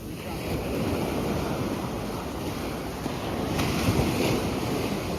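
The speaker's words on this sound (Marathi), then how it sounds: "लाटांचा आवाज बघा कसं येतात जोरदार." Ocean surf rolls and crashes continuously onto a Goa beach near a hotel, a loud, broad roar mixed with wind buffeting the microphone.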